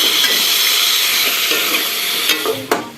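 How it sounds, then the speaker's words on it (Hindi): Chicken frying in ghee in a pan makes a loud, close, continuous sizzle and hiss, with a couple of sharp clicks near the end and no talking. "चिकन को जो है अच्छी तरह से घी में फ्राई करके"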